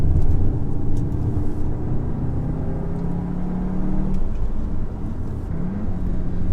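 A 2021 Cupra Formentor VZ2 performance compact SUV pulls hard uphill in third gear on a hill climb. The loud, steady engine drone rises in pitch, and a brief dip hints at a shift.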